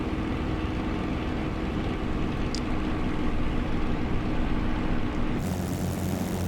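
A Spitfire Mk IXc's piston engine drones steadily on landing approach in a flight simulator, a constant propeller hum with a brief click midway and a shift in tone near the end.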